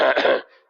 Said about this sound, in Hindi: कौन साहब कहाँ से खांसी कर रहे हैं?